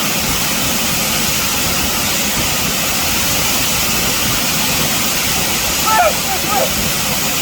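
An airplane engine in flight drones as a loud, steady roar throughout, with a few faint higher sounds briefly rising above it.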